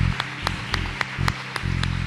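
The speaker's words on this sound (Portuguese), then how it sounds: "nós damos uma salva de palmas agora" A church congregation claps in a slow, even rhythm, about eight sharp claps spaced roughly a quarter second apart, over a loud low sustained hum of music.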